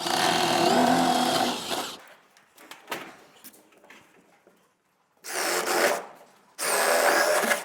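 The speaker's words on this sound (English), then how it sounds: "So we're just going to drill through all of these." Bursts of a power drill grinding through wooden joists, three loud stretches separated by quieter scraping and handling noises.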